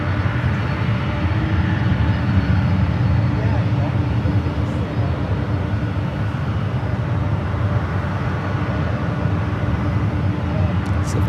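A Boeing 737 MAX airliner touches down at San Francisco airport with a constant, loud broadband roar of engines and rolling wheels, while radio chatter runs underneath.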